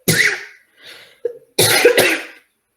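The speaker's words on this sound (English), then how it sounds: "I'm so sorry for my cough." Two sharp coughs close to the microphone, the first followed by a faint breathy pause and a short throat sound, then a pair of loud coughs in quick succession.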